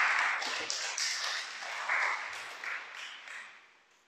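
Audience applause during a Spanish-language Torah teaching session, broad clapping that swells and then fades out over about four seconds, heard alone without talk.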